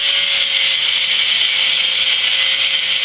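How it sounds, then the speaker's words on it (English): Grinding wheel buffing down a multi-pass flux core weld on steel, a loud continuous high-pitched abrasive whine held steady and close throughout with no pauses. "first buffing with the grinding wheel"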